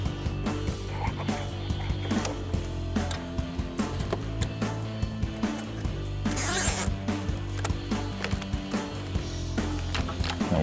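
A zip tie is ratcheted tight on a bracket during an LED light bar install on a Jeep Gladiator JT, producing rapid close clicking and zipping that repeats across the clip with no talk.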